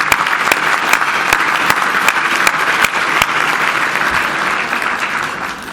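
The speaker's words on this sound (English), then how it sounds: "Let's have a big round of applause for our staff at the Business" A dinner crowd gives a big round of applause for the Business Council staff at an annual banquet, loud steady clapping with sharp individual claps standing out, continuing without speech.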